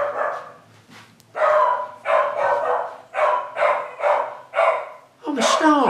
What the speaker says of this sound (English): How can Mike's dogs do all this to me?